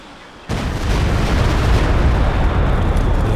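Mortar fire in the WWII strategy game Company of Heroes 2 during a 2v2 match, a sudden loud blast after a quiet start, followed by dense sustained rumbling battle noise with no speech.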